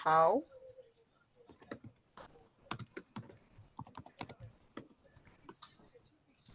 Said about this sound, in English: I just hear Sue typing away really hard